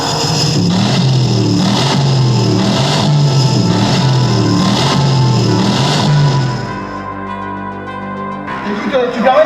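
A car engine runs close by with a rhythmic, pulsing drone for several seconds, then drops away to quieter idle-like noise before rising again at the end.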